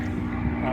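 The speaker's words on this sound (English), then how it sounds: "you can hear the airplanes behind me" A float plane and a large commercial airliner drone overhead near a bluff at an Alaska earthquake park, a steady low engine rumble heard close and fairly loud.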